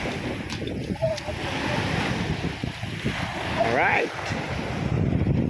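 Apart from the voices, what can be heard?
strong ocean waves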